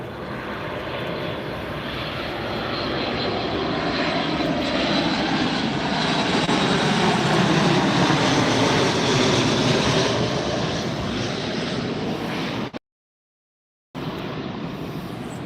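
An arriving airliner at Tampa airport roars as a loud, sustained jet engine rumble that swells and slowly fades, heard from outdoors with no talking, then briefly cuts to silence.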